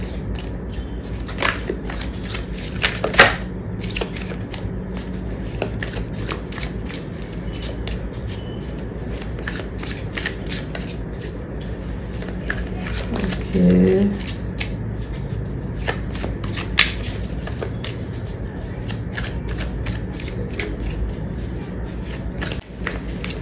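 Tarot cards shuffled by hand in repeated bursts of riffling and shuffling, close and crisp, with a person talking intermittently throughout.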